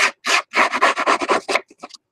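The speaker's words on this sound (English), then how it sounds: "No fancy tool required, just the back of your brush tool." Paper edges distressed by scraping with the back of scissors, a quick series of close, loud rasping strokes in an uneven rhythm, with no voices.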